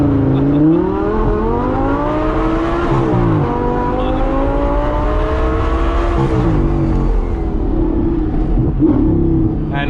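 Audi R8 sports car accelerating hard, its engine note climbing loud and close through the gears with brief dips at each shift, a continuous strained roar for the whole span.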